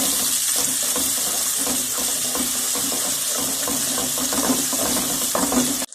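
Onions fry in hot ghee with a steady, dense sizzling hiss that continues evenly and fairly loudly for several seconds, then cuts off abruptly at the end.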